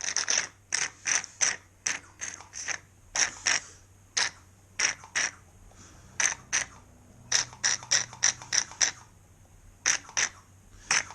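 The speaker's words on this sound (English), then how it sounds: "using that vacuum pump" A hand vacuum pump extracting old brake fluid from a Yamaha FZ6 motorcycle is worked in quick bursts of mechanical clicking and squeaking strokes, repeated in irregular clusters against a quiet low hum.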